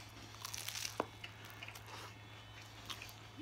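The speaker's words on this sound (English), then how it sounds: "So let's try their croissant." A few soft, crisp crunches and chewing sounds come from someone biting into a buttery croissant at a Paris bakery. One sharp bite stands out near the start, and quiet chewing follows against a low background hum.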